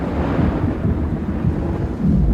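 A thunderstorm battering the airship Shenandoah over Ohio on an early September morning in 1925: a loud, continuous low rumble of thunder mixed with rain and wind, steady throughout with no talk.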